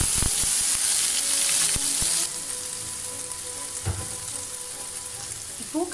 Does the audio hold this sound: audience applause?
no